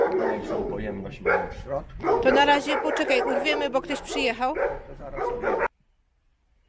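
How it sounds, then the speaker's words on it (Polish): Dogs barking on a farm, with repeated yips and barks running beneath someone speaking up close. The sound carries loudly for about five seconds and then cuts off abruptly into silence. "Psy szczekają wtedy."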